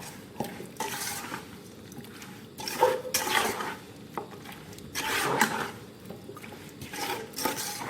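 Ingredients for an Isan beef om curry are stirred and dry-roasted in a pan, with repeated scraping and rustling strokes in uneven bursts, some louder than others, and no talking.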